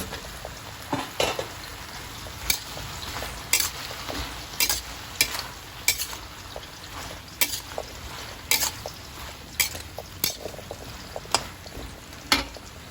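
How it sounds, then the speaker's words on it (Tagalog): Eggplant and okra tossed in a hot pan for pinakbet, with repeated sharp scraping stirs over a low steady sizzle, evenly spaced clatters close by. "Lalagay na natin yung ating talong at saka okra."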